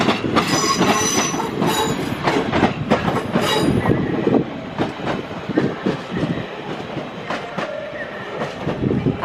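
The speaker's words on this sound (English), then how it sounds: "here comes 323 working service from Manchester Piccadilly to Crewe" A Class 323 electric multiple unit pulls into Crewe station on a service from Manchester Piccadilly, loud and close, with rhythmic wheel clatter over rail joints and sharp squealing brakes as it slows.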